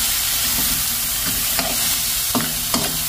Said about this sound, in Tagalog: Gisa na natin. Gisa-gisa muna natin ito.